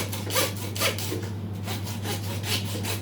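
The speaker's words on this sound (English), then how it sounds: "When your handsaw cuts through, you can hear it." A handsaw rasps through sheep bone during butchering, a close, steady series of back-and-forth strokes with a gritty, scraping texture and a constant low hum beneath.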